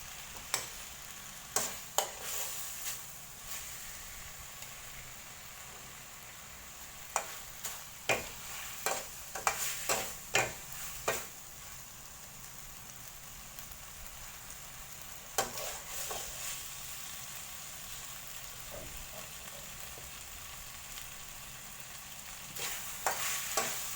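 Macaroni with pork and carrot stir-fried in a pan, a steady low sizzle broken by repeated clacking scrapes of a spatula against the pan, no voices.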